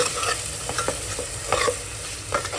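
Thinly sliced tomatoes sizzle and fry in a pan for mutton pulao, stirred with a steady crackling hiss and repeated quick scraping strokes, close and fairly loud, with no voices.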